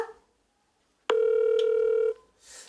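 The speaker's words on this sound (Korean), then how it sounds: "누나한테 전화해보자. 우리 뭉치 누나한테 전화하자." A telephone rings once as a call goes out, a single loud steady electronic tone lasting about a second after silence, followed by a faint noise.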